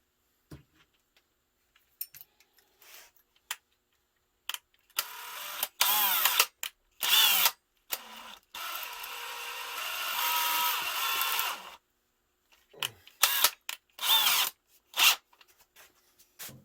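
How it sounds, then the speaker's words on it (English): A power drill whirs in several short bursts, then runs in one sustained grinding stretch before more brief spurts, close and loud between quiet pauses, drilling a hole in a Ruger Mini-14 rifle barrel stabilizer. "Okay, I'll drill a hole."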